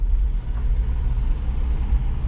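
A truck cruising along in second gear at low RPM, its engine giving a steady, close low rumble with no talking over it.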